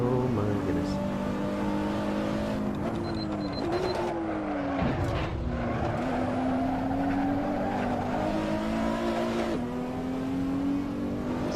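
A Porsche production racing car in Assetto Corsa on the Nürburgring roars steadily at high revs, pitch rising and dipping through gear changes, with a brief drop near the middle, and people talk over it throughout.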